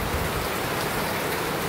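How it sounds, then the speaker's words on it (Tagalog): Heavy rain pours down in a dense, steady hiss of drops pattering on surfaces, loud and unbroken. "It's so strong rain"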